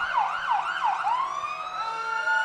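A fire engine siren blares close and loud during a small-town parade, its warbling wail sweeping up and down several times and then settling into a long steady rising tone.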